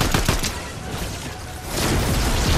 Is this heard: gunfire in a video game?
yes